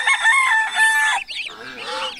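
A rooster crows up close, followed by a few quick clucks from nearby chickens.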